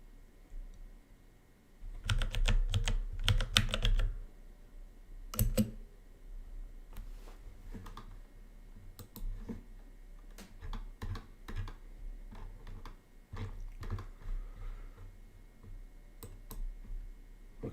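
Fast, uneven clicking of keys on a high-end computer keyboard bought at Best Buy, close and fairly loud, in bursts with short pauses, alone without talk.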